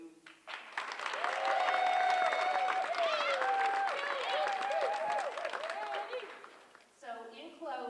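Applause and crowd noise from an audience honoring supporters of the Kilgore College Lady Rangers at a send-off celebration, a sustained wash of clapping mixed with talking voices for several seconds before fading, with more speech at the end.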